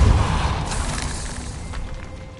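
Depulso force spell in Hogwarts Legacy, cast in a catacomb: a loud, deep boom at the start that rolls off and fades over a couple of seconds, with faint rumbling debris after.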